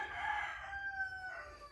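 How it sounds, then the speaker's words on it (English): A rooster crows loudly and close by inside a barn housing golden pheasants and chickens, one drawn-out, tuneful call that holds steady and then trails off. "the pheasant barn where there's quite a few chickens at the moment"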